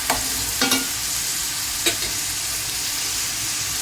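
Stuffed brinjals for gutti vankaya curry sizzle steadily in a pan, with a few sharp scraping stirs early and one more midway over the constant frying hiss.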